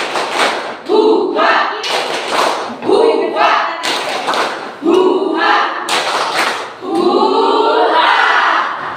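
Schoolchildren in a writing lesson do the tepuk semangat, a rhythmic clapping chant. Repeated bursts of loud group claps and thumps alternate with chanted voices in a steady pattern.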